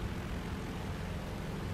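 Steady broadband roar of a twin-engine G91 jet aircraft in War Thunder, a continuous, even engine drone filling the short stretch with no talk.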